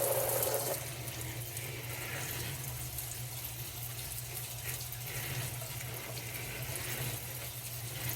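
Steady tap water runs into a sink while green beans and butternut squash are rinsed under it, a constant, moderately faint splashing flow with no talking.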